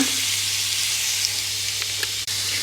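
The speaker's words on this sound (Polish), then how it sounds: "No i to tak nam się tutaj pod smaża, przechodzi aromatami." Sauce ingredients for a spaghetti dish sizzle and fry steadily in a pan, a continuous close, loud crackling hiss with no talk over it.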